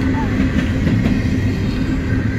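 Norfolk Southern's Nickel Plate Road heritage locomotive 8100 passes close by with its train, a loud, steady rumble of wheels and cars. People talk nearby.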